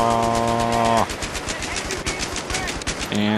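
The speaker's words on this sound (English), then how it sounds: "LMG!" Sustained automatic bursts from a light machine gun in Battlefield 3, rapid evenly spaced shots firing loud and close, with a tonal game sound at the start and end.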